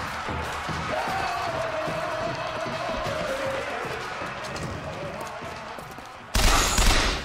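BioShock Infinite gunfire rattles in quick bursts over a busy, crowd-like background with a sustained tone, then a louder burst of noise erupts near the end.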